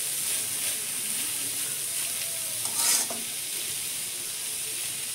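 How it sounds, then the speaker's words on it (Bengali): Ridge gourd peels and potato peels being half-fried in a pan give a soft, even sizzle with gentle stirring and one brief louder scrape near the middle, fairly quiet and with no talking. "ঝিঙের খোলা এবং আলুর খোলাটা আমি একটু নেড়ে নেব। আমি হাফ ভেজে নেব।"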